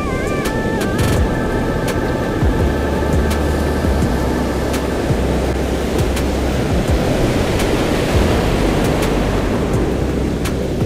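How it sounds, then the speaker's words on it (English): Ocean surf breaking along a beach while someone fishes for surf perch, a loud, continuous roar of crashing waves and rushing white water close by, with a faint wind rumble. "Big wave just crashed."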